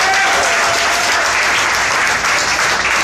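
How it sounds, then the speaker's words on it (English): An audience at a music beat camp claps in a thick, sustained round of applause that stays loud and even for several seconds. "Clap it up for her, man."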